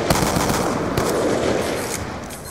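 A rapid-fire gun in a video game spins up and unloads a dense, continuous burst of shots, loud and close throughout.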